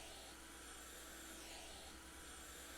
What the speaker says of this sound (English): they added a vacuum sound effect to the windshield or the window cleaning part of the job